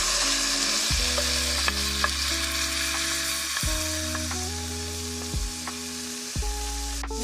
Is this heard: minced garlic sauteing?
yes